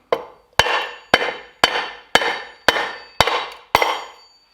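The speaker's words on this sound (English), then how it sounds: "Ooh, back away from Thor's hammer." A hammer strikes the metal timing gear on a tractor engine eight times in a steady rhythm, each blow a sharp, loud, close clang that rings briefly before the next, with no talking.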